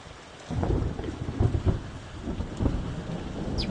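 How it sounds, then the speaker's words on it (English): Steady heavy rain with a deep rolling thunder rumble in the video game Geneforge 1: Mutagen, a dense constant wash of rain under low booming swells, with no voices. "It's raining."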